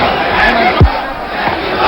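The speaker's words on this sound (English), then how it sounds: "It's going to be the hardest job in the world, it seems, to be able to quieten this crowd down." A large boxing arena crowd of Mexican and Argentinian fans shouting and roaring continuously at close range, with a brief louder cry cutting through midway.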